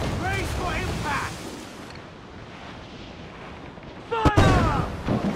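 Ship cannons firing during a naval battle in Assassin's Creed IV: Black Flag: a heavy booming blast crashes in late, loud and close, amid wind and sea rumble, with shouted crew voices before and after.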